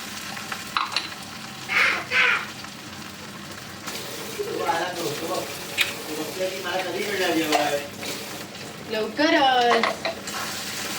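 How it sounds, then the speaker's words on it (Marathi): Whole spices sautéing in a hot pan for a dum aloo, a crackling sizzle broken by metal spoon scrapes and clinks against the pan, with a person talking over parts of it. "आधी मसाला हा आपण मस्त परतून घेऊया छान"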